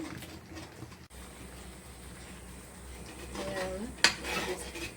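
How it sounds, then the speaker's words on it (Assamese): Spoon stirring a curd and yogurt mixture in a cooking pan while making a paneer dish, a soft scraping clatter that grows busier toward the end, with one sharper clink of utensil on metal. "এইখিনিও আমি এতিয়া লৰাই থাকিব লাগিব। দৈটো আমি মিক্স কৰাব লাগিব।"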